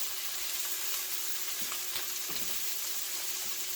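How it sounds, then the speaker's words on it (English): Crappie fillet pieces frying in a pan mixed with onions give a steady, close sizzle with faint crackles and a few soft stirring scrapes, no voices. "Now as the fish begins to cook, it'll start to break up"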